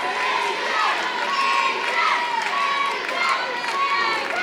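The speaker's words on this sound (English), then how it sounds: "You hear this crowd chanting AJ, AJ." A professional wrestling crowd at a one-year anniversary show chants a wrestler's name in rhythmic, repeated shouts, loud and echoing through the venue, with a commentator's voice running over it.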